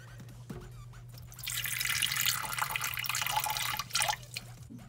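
Fresh water poured into a pet leopard gecko's water bowl inside its enclosure, a steady close splashing trickle running for about three seconds with drips and a low hum beneath.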